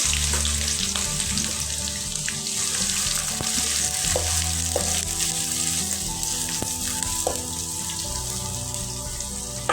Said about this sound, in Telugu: ఇవి కొద్దిగా వేగిన తర్వాత ఆనియన్ వేస్తున్నాను